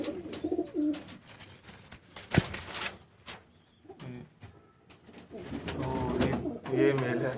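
A breeder golden pair of pigeons coos close by, soft throaty calls mixed with wing flutters and cage rustling, while someone talks about the birds.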